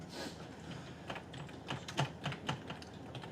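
Keys tapped on a computer keyboard during a troubleshooting session: a run of irregular clicks, some isolated and some in quick bursts, close by and fairly quiet, with no voices.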